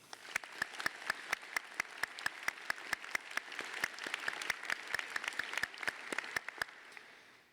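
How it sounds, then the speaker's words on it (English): Steady applause from a large crowd at a presidential inauguration ceremony, with distinct claps popping out rhythmically over a continuous wash of clapping, fading slightly at the end. "let's all give them a round of applause"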